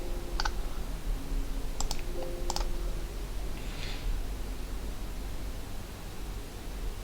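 A computer mouse gives a few sharp clicks during a software installation on Windows. One click comes early, then a quick pair follows, over a steady hiss of background noise.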